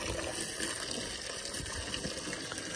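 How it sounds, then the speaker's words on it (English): Water runs steadily into a drinking bowl, a constant close gushing pour with an even hiss throughout and no talk. "I'm just starting to put water in it."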